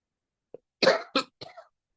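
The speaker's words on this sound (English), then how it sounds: "I apologize that I'm coughing so much" A man coughs several times in a quiet room, a brief catch followed by three throaty bursts close to the microphone.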